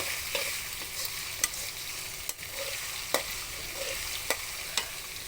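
Chicken fried rice is stirred in a pan over a steady low sizzle, with a spatula scraping and clacking against the metal in sharp, irregular knocks.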